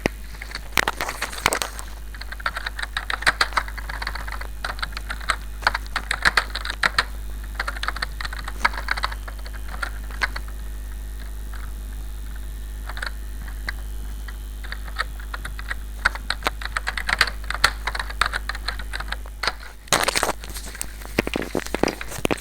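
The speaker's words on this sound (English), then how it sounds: "I'm going to choose this strip and I'm going to type welcome" Computer keyboard typing while entering text in Microsoft Word, irregular close key clicks in bursts with brief pauses over a low steady hum, no talking.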